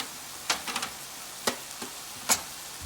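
Grated carrot frying with meat in a pan: a soft continuous sizzle with a few distinct stirring scrapes at irregular moments, close and fairly quiet, no talking.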